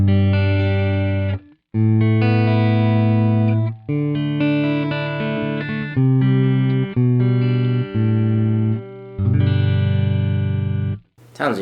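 Distorted electric guitar chords through a Custom Audio Amps C3+ SE preamp model on an Axe-Fx III, played steadily in a dry tone with no reverb or room ambience, sustained strums with a few brief gaps.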